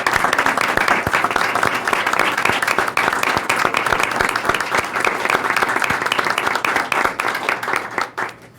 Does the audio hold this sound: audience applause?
yes